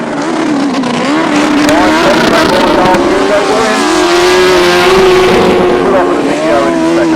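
Grasstrack racing motorcycles at a 2015 meeting, rider Colin Blackbourn among them, power out of the last turn. A loud, continuous, close engine roar rises and falls in pitch as the throttles open.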